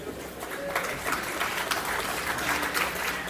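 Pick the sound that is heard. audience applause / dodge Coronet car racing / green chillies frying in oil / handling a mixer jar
audience applause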